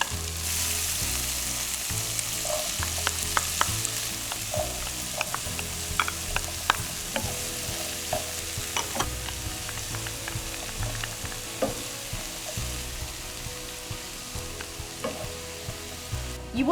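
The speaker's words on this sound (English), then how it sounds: "And just stir through your vegetables and leave them to soften for about 10 minutes." Onion, carrot, celery, garlic and rosemary sizzle steadily in a pan with browned bacon over gentle heat, a constant close frying hiss broken by repeated clicks and scrapes of stirring, with no voices.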